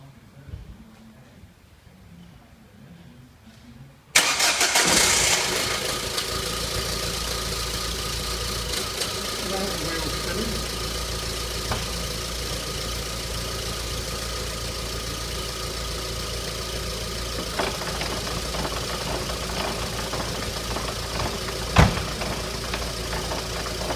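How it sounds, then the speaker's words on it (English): A car engine starts abruptly and settles into a steady, loud running drone in gear with a wheel spinning during ABS sensor fault testing. A few faint knocks and clicks sit over the continuous noise. "start the vehicle up and have it run in gear, spinning this wheel. A bit noisy,"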